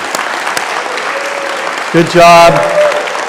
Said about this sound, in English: let's start the message this morning with applause unto the Lord, can we?